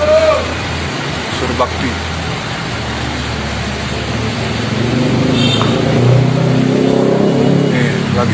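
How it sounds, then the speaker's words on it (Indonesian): A Murni Express mountain bus on the Medan–Kaban Jahe route idles and rumbles nearby, with a low engine drone swelling later amid roadside traffic while someone talks throughout. "Ini ada bus murni nomor 112 nih seperti ini."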